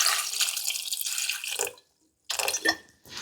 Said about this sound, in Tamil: கரெக்டாக இது முழுகிற அளவுக்கு மட்டும் தண்ணி ஊற்றிக்கலாம்.